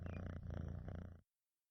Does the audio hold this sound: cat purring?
yes